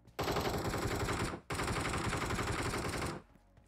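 Automatic gunfire in PUBG Mobile comes as two loud, close sustained bursts of rapid shots, the first about a second long and the second slightly longer, separated by a brief gap.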